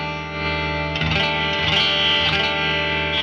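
A clean-toned electric guitar rings out a major 7 sharp 11 chord, bright and sustained with chorus-like shimmer and a few restrummed notes, loud and close with no talk.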